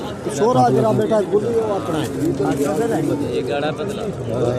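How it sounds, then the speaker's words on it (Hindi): Pigeons, including fighter breeds, coo steadily at a pigeon market in Rahim Yar Khan, their soft throaty calls overlapping while a person talks over them throughout. "फाइटर कबूतर, ब्रीड के कबूतर"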